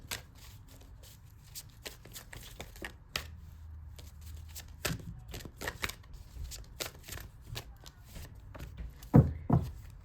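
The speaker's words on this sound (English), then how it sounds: "let's get you some oracle cards." Oracle cards are shuffled by hand in quick, crisp bursts of riffling and tapping, close and fairly quiet, with no one talking.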